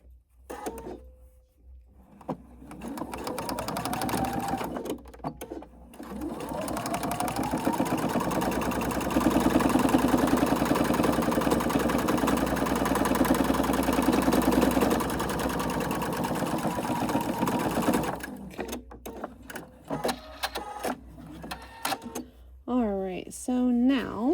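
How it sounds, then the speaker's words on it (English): A sewing machine runs steadily while top stitching the other side of a fabric piece, a continuous mechanical hum lasting several seconds, with a voice talking before and after the run. "We are going to top stitch the other side"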